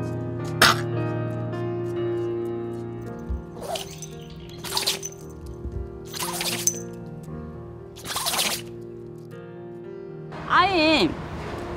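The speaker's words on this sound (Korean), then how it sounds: "기침도 좀 많이 하고 그리고 산책하다가 다니면서 계속 캣캣거려서" A dog coughs and hacks in several harsh, separate bursts spaced a second or two apart, with a final rougher retching fit, over a quiet background of steady tones.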